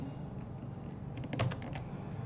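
A few computer keyboard shortcut keys pressed while working in Adobe Illustrator, a short cluster of quiet clicks close by over a faint background hum, with no talk.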